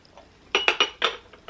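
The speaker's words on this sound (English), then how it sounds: "We can strain our tea out." Porcelain gaiwan clinking as oolong tea is strained out, with a few sharp, close ceramic taps of lid and cup in a brief cluster, then a faint final knock.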